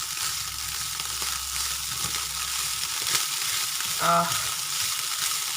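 Onions frying in a pan, browning as they cook, give a steady close sizzle throughout, with a brief clatter near the end and a short spoken exclamation.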